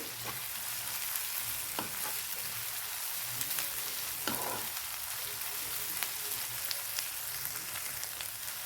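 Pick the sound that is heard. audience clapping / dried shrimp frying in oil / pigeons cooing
dried shrimp frying in oil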